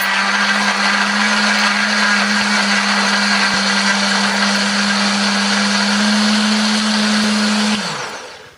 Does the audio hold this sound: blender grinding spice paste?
yes